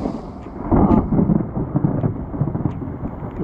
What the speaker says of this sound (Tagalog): Kulog at kidlat ay.